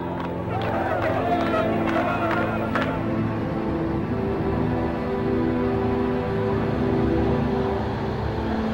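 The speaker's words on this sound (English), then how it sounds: "A tumultuous crowd gathers at Lod Airport to welcome home the returning heroes." Large crowd gathered at Lod Airport to welcome returning planes, a busy hubbub of voices and movement with a few sharp early bursts, then a sustained rumbling babble.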